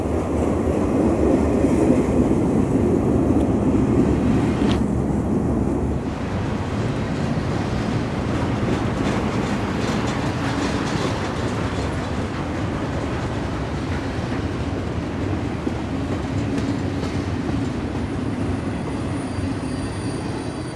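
A Norfolk Southern freight train led by a four-unit locomotive lash-up passes on the Pittsburgh Line at Cresson, Pennsylvania, with a continuous loud rumble and rolling wheel noise filling the air outdoors.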